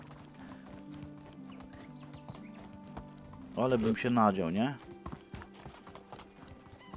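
Horse hooves clip-clop steadily while riding in the medieval survival game Medieval Dynasty, a brief whinny rising midway, with someone talking over the ride.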